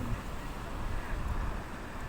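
Steady broadband wind rush from a typhoon in Hong Kong, buffeting close on the microphone with low rumble, continuous throughout with no pauses.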